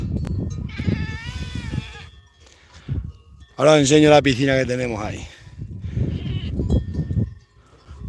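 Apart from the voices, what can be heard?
goats bleating in the mountains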